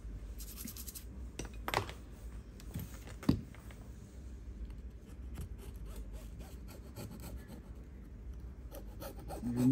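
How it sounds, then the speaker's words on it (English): Short, quiet scraping and rubbing strokes as leftover glue is removed from a Google Pixel 6 Pro phone frame during a screen replacement, with a few sharper clicks in between. "remove any leftover glue, otherwise you might damage the new screen"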